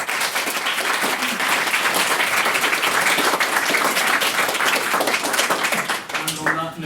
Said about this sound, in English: I'd just like to give them another round of applause